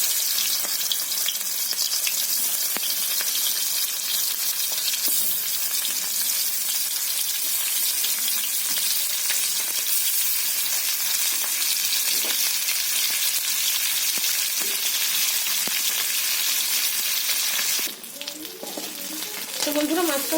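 Fish frying in hot oil for a mustard fish curry with pointed gourd, a dense steady sizzle close by, with a sharper burst of crackling and faint water-like splashing near the end.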